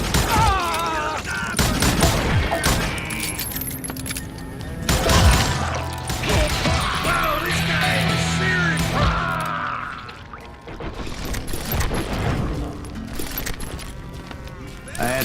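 Gunfire from the Western shooter game Call of Juarez Gunslinger, a dense, loud fusillade of shots and crashing impacts going on throughout, mixed with game music and voices.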